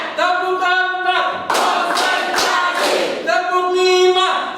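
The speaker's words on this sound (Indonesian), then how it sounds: "Tepuk empat." A class of children claps a quick burst of four sharp claps together as part of a classroom clapping routine, set between loud group chanting voices.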